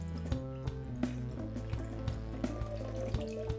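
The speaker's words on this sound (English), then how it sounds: "pour out my preferred cocktail first" A Martinez gin cocktail pours steadily into a glass, with small clinks and drips scattered over the gentle splashing flow.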